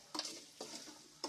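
Taro root (cheppakizhangu) frying with curry leaves in a pan is stirred in three quick scraping strokes over a faint, steady sizzle.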